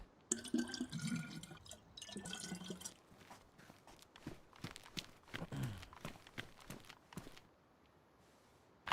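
Footsteps in an online survival video game, a series of short soft steps with splashy, watery textures, fairly quiet and spread through the clip without talk.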